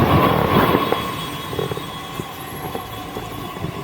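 A Delhi metro train rumbles into the station close by with a steady roar, faint wheel squeals and occasional clanks, and no voices.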